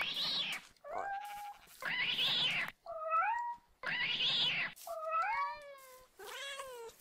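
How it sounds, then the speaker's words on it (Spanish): Cats in a Minecraft mod meow loudly and repeatedly, their drawn-out, wavering cries alternating with bursts of broadband hiss in a steady back-and-forth pattern, close and with no speech. "Hay muchos gatos aquí, ¿no?"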